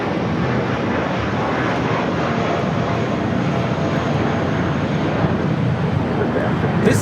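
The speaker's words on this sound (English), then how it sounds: "2456 taking off to Dallas Fort Worth on an A320" A Spirit Airlines Airbus A320 takes off from LAX bound for Dallas Fort Worth, its jet engines producing a loud, steady broadband roar that holds without a break for the whole stretch.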